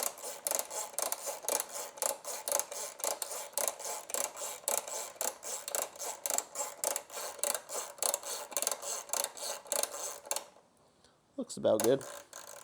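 A Bonamici chain adjuster on a motorcycle swingarm clicks steadily as it is turned with an 8mm tool, a fast, even run of close ratcheting ticks that stops near the end, followed by a brief spoken remark.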